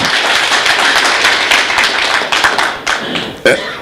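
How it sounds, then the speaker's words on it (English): Audience clapping at a national export campaign launch, a dense, steady patter of hands close by that thins in the last second into a few separate claps, with voices mixed in. "can we once again give Mr. Rwabogo a thunderous clap in the real sense of the word?"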